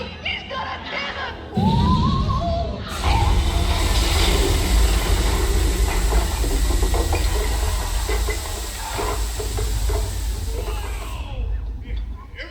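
Cannon blast effect in the Muppet Vision 3D show at Disney's Hollywood Studios, a sudden loud booming burst followed by sustained rumbling and hiss from the theater speakers, with voices talking over it.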